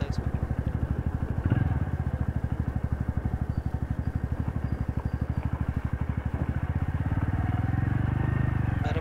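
A TVS Radeon Special Edition motorcycle engine chugs steadily at close range while riding on a village road, its rhythmic low putter continuous throughout, with someone talking over it.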